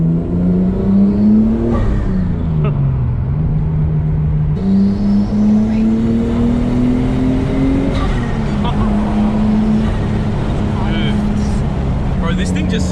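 A tuned Nissan GT-R makes about 300 kilowatts at a racing open day, its engine revving loud and close with rising and falling pitch across several pulls, steady and throaty throughout.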